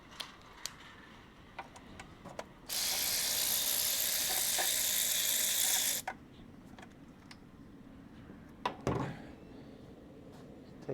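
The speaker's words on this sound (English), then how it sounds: "I'm just going to use the electric ratchet to do this fast." An electric ratchet spinning bolts out in a garage, one sustained buzzing whir lasting about three seconds amid quiet clicks and small metallic taps before and after.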